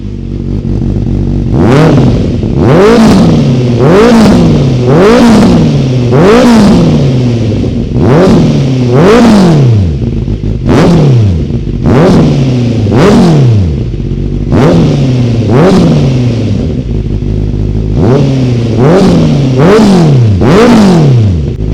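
Honda CBR 650R motorcycle with an aftermarket exhaust revved hard and close, about a dozen sharp throttle blips in a steady rhythm, each climbing and falling back, loud and with no talking.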